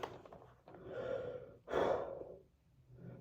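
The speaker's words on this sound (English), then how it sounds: "Sorry, I'm out of breath." A man breathes heavily, out of breath, with several loud, close gasping inhales and exhales and no talking.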